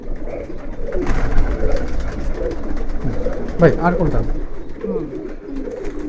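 Kaldom pigeons coo steadily in a large pigeon loft on a farm in Bangladesh, a close, continuous murmur of calls running under a man's speech.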